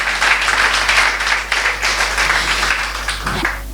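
A church congregation claps for the Lord in a short burst of fairly close applause, with uneven rhythm and some brief louder surges.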